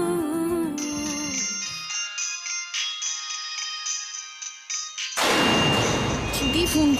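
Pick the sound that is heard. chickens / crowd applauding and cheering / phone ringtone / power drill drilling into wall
phone ringtone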